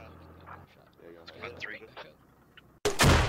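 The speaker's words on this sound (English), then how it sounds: "Oh, grenade takes him down." A grenade explosion in the military shooter Squad: a sudden loud, close burst at the end, following a stretch of radio chatter and voices.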